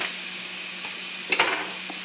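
Leftover fried rice frying in butter, a low steady sizzle with one short burst of stirring or scraping partway through, no talk.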